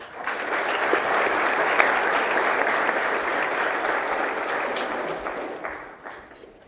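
An audience at a school award assembly applauds students receiving subject awards, a dense, steady roar of many hands clapping for several seconds before tapering off at the end.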